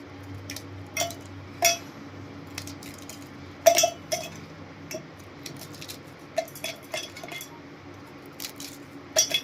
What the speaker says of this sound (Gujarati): તો આપણે એના મિક્સર જારમાં જ સીધા ટુકડા એડ કરી દઈશું.